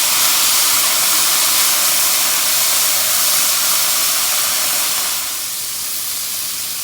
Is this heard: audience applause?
no